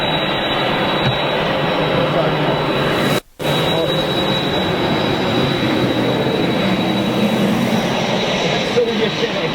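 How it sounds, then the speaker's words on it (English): Jet aircraft approaching Manchester International Airport on a foggy day, a broad steady roar heard from a distance throughout, with a brief dropout partway. "I've got an approaching aircraft."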